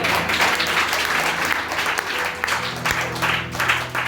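An audience at a Christian gathering breaks into sustained applause, dense and loud clapping that fills the space evenly for several seconds without any speech over it.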